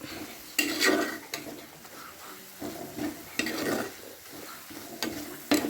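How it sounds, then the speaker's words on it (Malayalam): A spice masala for an egg dish is stirred in a pan, with quiet frying sizzle beneath repeated scraping and clinking strokes of a utensil against the pan, each a short burst. "പച്ചക്കുത്ത് പോകണ വരെ ഇളക്കിക്കൊണ്ടിരിക്കാം."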